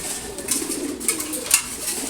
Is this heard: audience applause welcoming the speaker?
no